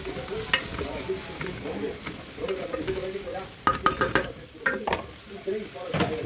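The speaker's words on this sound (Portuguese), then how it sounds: "Macarrão no yakisoba tem que ser frito primeiro, sempre, antes de começar." Yakisoba noodles fry in a pan while being stirred, a busy sizzle broken by repeated utensil scrapes and metallic clinks against the pan, close and lively throughout.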